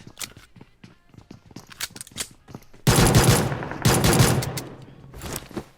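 M762 rifle fire in PUBG Mobile: rapid full-auto bursts, loud and dense, after lighter clicking game sounds, with a shorter burst near the end.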